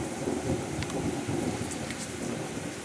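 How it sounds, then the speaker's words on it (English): Rain hisses steadily on trails during a thunderstorm while soft, distant thunder rumbles underneath, with no voices. "Oh, Mr. T, how do you get your horse not to be scared of thunder, Rick?"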